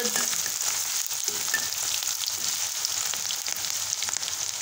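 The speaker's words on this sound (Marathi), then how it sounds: "जो कांदा आपण चिरून घेतलेला आहे ते कांदा टाकून घेऊ।" Chopped onion frying in hot oil in a pan for paneer bhurji, a steady close sizzle with crackling spatters that hold without a break throughout.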